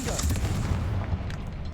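A Confringo fire spell in Hogwarts Legacy bursts against webs, giving a heavy rumbling blast with crackling burn that fills the short moment at close range.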